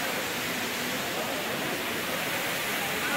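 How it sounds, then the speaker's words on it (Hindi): A mountain waterfall pours down on the trek to Kedarnath, making a steady, dense broadband rush of falling water that stays loud and unbroken throughout, with no other sounds standing out. "ये देखिए ऊपर पहाड़ पे से झरना आता हुआ, और बहुत ही खूबसूरत नजारा है।"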